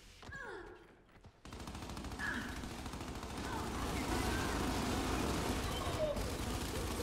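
Gears 5 ranked Control match gunfire: after a short opening with game sounds, a dense, continuous rattle of rapid shots fills the rest, loud and sustained with little pause.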